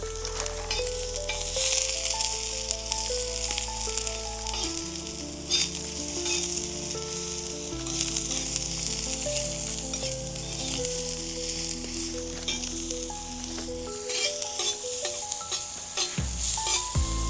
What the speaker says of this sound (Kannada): ಈರುಳ್ಳಿ ಚೆನ್ನಾಗಿ ಫ್ರೈ ಆದಮೇಲೆ ಟೊಮೆಟೊ ಹಾಕಬೇಕು. ಈರುಳ್ಳಿ ಚೆನ್ನಾಗಿ ಫ್ರೈ ಆಗಲಿ ಮೊದಲು.